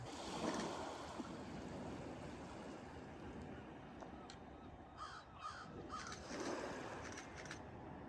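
Several harsh seagull calls ring out over a steady wash of wind and water noise on a coastal boat tour off Jonesport, a few cries in the middle, fairly distant.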